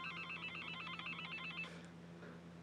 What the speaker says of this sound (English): You ever have that one person that just calls you and you just want it to just stop ringing, but it doesn't?